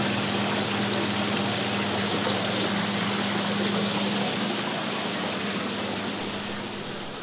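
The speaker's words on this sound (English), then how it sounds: "that roar that you hear is not the result of the pump, but a waterfall there in the backyard" A backyard waterfall roars with steady, loud rushing water, a broad wash of noise with a faint hum at first, easing slightly toward the end.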